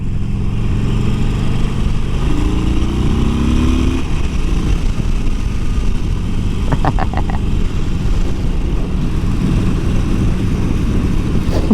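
A 2018 Harley-Davidson Sportster Iron 1200 rumbles steadily on a test ride, its engine note shifting through a downshift amid wind and road noise, with a brief metallic clicking partway through and no talk.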